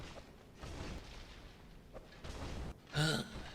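A firebomb explodes in the video game Dark Souls, landing as a short, loud burst near the end amid earlier muffled game-fight sounds.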